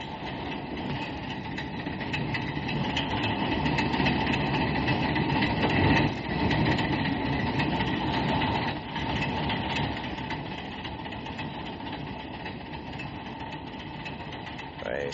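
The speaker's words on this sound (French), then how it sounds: "voici justement une rame de métro qui arrive" A metro train pulls into a station with a steady, loud rumble of engine and wheels that stays continuous, with faint rhythmic clatter underneath.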